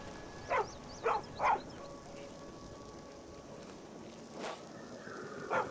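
A dog in Skyrim barks three times in quick succession, a bit distant over a quiet ambient background, and then lets out one more bark after a pause.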